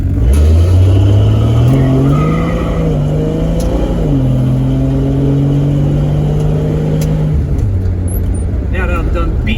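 A 1966 Dodge Dart GT with a Super Six two-barrel manifold upgrade revs hard on a test drive, the engine note climbing and falling in pitch steadily over several seconds, loud and close, with a voice talking over it.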